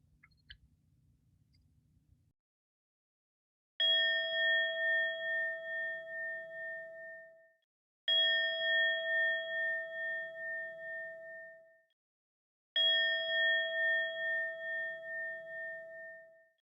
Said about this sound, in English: All right, let's go to third bell.